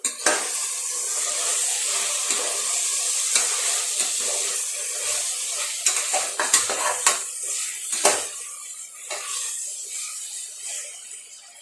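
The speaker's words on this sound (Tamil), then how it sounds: "சேர்த்துட்டு நல்லா கிளறி விட்டுருங்க." Spices and turmeric being stirred into a pan for chicken and potato biryani: a soft continuous sizzle broken by sharp metal spoon scrapes and clinks against the pan, bunched more densely toward the middle.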